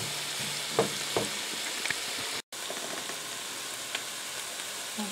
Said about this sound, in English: the onions are starting to soften up and do exactly what we need them to do